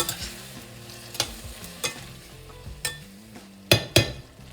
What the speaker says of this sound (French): je déglace